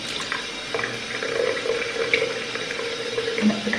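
Tap water runs steadily into a sink or container to mix green tea enzyme powder wash, a continuous close splashing stream lasting the whole stretch without speech.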